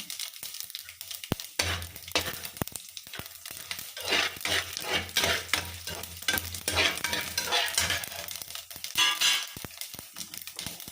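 Whole tempering spices hit hot oil in a pan, giving a sudden bright sizzle, then crackling pops and the scrape of stirring, fairly close and loud with no talking.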